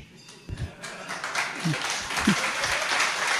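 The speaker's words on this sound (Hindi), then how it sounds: "किंतु तालियां ये तो हर बात पर तालियां बजा रहे" An audience at a Jain religious discourse claps, the applause building from scattered hand claps into a steady, dense patter while a voice carries on underneath.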